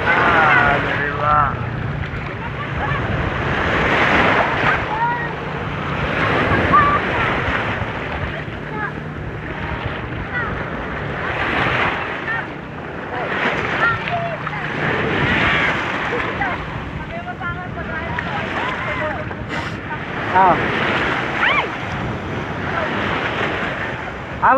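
Ocean waves in the sea off Batangas roll and wash in broad repeating surges, mixed with wind buffeting the microphone, while people talk over the surf.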